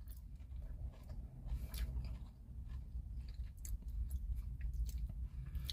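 Chewing a KFC apple pie popper: close, continuous soft mastication with wet squishy bites and occasional faint crunches, heard alone without talk.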